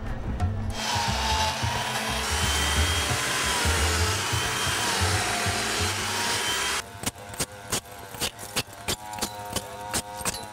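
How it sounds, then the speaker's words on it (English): A steady mechanical buzz drones on for several seconds, like a chainsaw running some distance away, then gives way to a series of sharp, irregular knocks. "You can hear the saws buzzing. And in the distance, a chainsaw."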